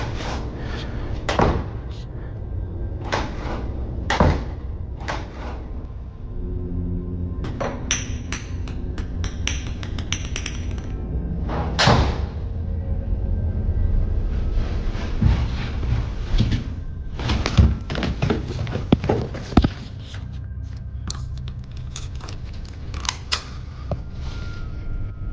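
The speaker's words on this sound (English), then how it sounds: "Doors began behaving unnaturally, opening and closing without any force." Doors open and close on their own, giving sharp slams and knocks that come in irregular clusters, with creaks and mechanical rattles between them in a quiet indoor space.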